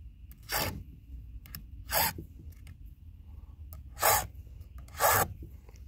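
Four separate rasping strokes of a file across a chainsaw chain tooth during sharpening, each a short broadband scrape, close and fairly loud over a quiet background with faint low rumble between strokes.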